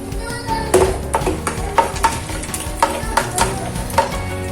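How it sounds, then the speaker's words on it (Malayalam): Peanuts and almonds frying in ghee, stirred with regular scraping strokes of a spoon against the pan under a continuous sizzle, close up and moderately loud. "ഇനി ഈ നെയ്യിലോട്ട് കുറച്ച് നട്ട്സും റേസൺസും ഒന്ന് ഫ്രൈ ചെയ്തെടുക്കണം"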